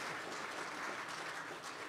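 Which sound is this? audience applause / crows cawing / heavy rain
audience applause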